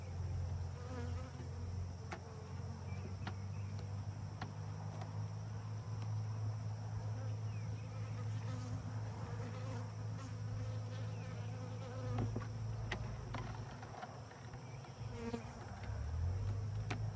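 Steady, continuous buzzing of many Southern Italian honey bees close by during installation of a package into a hive, a dense droning hum that persists throughout with no voices.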